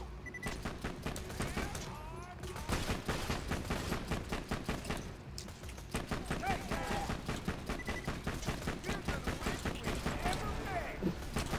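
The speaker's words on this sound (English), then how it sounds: "something's still shooting at us" Enemy gunfire crackles almost nonstop in the Borderlands 2 video game, as dense rapid bursts of shots with brief gaps, loud and close, while people talk over it now and then.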